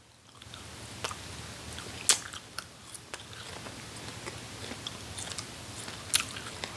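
Rolled cuttlefish snack being chewed close up, a soft continuous run of sticky, squishy mouth sounds with a couple of sharper crunchy bites standing out, no talking.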